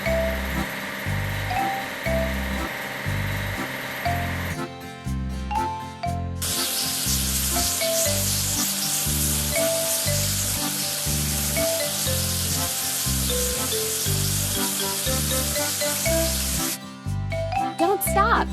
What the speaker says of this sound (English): Now let's wash the seeding machine.